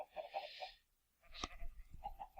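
Sheep in the Minecraft video game bleat in a soft, quiet series of short, warbling cries, with a brief gap and a faint thump partway through, over a low background hum.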